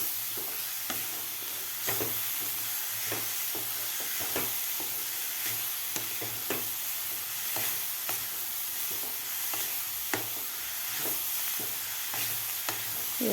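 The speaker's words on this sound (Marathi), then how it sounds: "आता यावर घालायचं आपल्याला गरम मसाला. तर व्यवस्थित आपल्याला मिक्स करून घ्यायचं आहे." Cauliflower bhurji being stirred with garam masala in a pan, a steady close sizzle with repeated sharp scraping strokes of the spoon at an uneven rhythm throughout.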